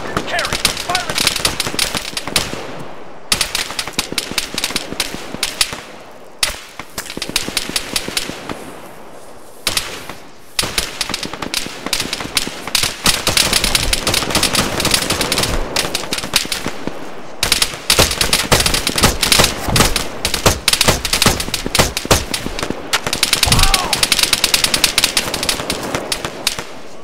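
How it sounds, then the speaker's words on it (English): Machine gun fire in the Arma 3 video game: long, loud automatic bursts rattle almost continuously with brief pauses, mixed with other gunshots and voices shouting over the firefight. "Machine gun, 100 meters, front!"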